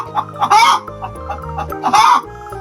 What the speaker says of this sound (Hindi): Hen, HEN, hen, hen means मुर्गी.